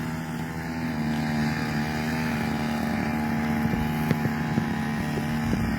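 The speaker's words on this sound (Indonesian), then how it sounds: "Dengan cara memotong menggunakan mesin Tribuners." Motorized grass trimmer cutting grass at a motorcycle race circuit, a steady buzzing engine drone held at constant pitch for several seconds with faint ticks and clicks, moderately loud and without talking.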